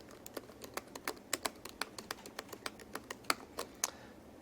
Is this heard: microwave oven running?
no